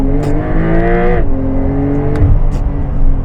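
A Porsche 911 (992) Carrera 4 GTS PDK with 480 hp accelerates hard in Sport Plus mode. Heard from inside, the engine climbs loudly, cuts briefly at a gearshift, then pulls strongly again.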